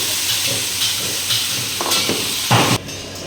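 Spices and ginger-garlic paste fry in a pan for a Bangladeshi beef bhuna, giving a steady close sizzle with a few brief louder stirring bursts.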